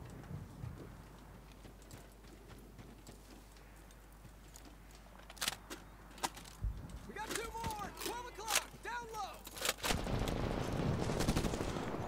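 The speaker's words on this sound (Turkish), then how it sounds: "Oha sen neye sıkıyorsun öyle? Sanki adamda sabit makineli var." Mounted machine gun fire in Medal of Honor, heard as scattered sharp shots and short bursts that grow denser toward the end, mostly mid-distance and fairly quiet, with a voice speaking at times.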